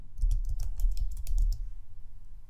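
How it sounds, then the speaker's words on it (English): Rapid typing on a computer keyboard, a quick run of crisp clicks over about a second and a half that then trails off into quiet room tone. "type in the single quote mark,"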